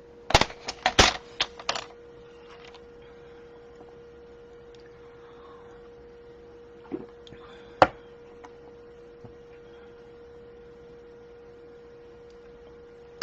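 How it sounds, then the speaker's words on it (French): A paper trimmer slices scrapbooking paper on a quiet tabletop. Crisp clicks and short sliding bursts cluster in the first two seconds, a few sharper clicks follow near the end, and a faint steady hum runs underneath. "Et on reprend son coupe-papier."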